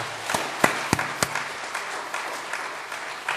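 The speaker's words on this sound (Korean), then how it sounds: "큰 박수로 격려해 주시기를 바랍니다." A church congregation applauds scholarship recipients during a Sunday morning service, a moderate, even patter of many hands with a few sharp, louder claps standing out near the start.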